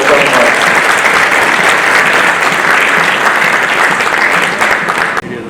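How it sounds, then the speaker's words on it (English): Sustained applause from a summit audience welcoming the Honorable Minister at the CII Karnataka ESG Summit, a dense, even wash of clapping that carries steadily before breaking off abruptly near the end. "please give a big round of applause to welcome."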